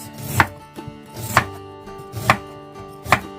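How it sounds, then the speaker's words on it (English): Knife slicing through unpeeled ginger on a cutting board, four evenly spaced crisp chops about a second apart, close and clear with no talking. "And I'm gonna cut, just slice them up like this."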